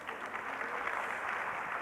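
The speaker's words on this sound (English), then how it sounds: "yeah, you can clap." Audience applause in a hall during a speaker's talk, an even spread of clapping heard at a fair distance and rather faint, with no talking over it.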